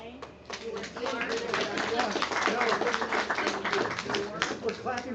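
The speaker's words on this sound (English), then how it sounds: "We're clapping for you all." An audience claps for workshop participants: a fairly close, brisk round of many hands that builds and holds steady, then tapers slightly at the end.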